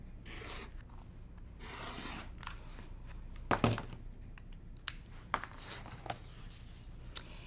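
Fabric being cut a quarter inch from the seam while making a charm pack Christmas tree skirt, heard as quiet rasping scissor snips and a few light thunks and taps on a work surface, close by and without talk.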